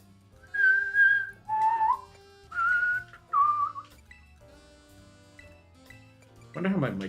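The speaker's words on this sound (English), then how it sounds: "Wonder how my mic catches whistling." A person whistles a tune in several short bursts with pauses between, close to the microphone, ending with a brief rustle.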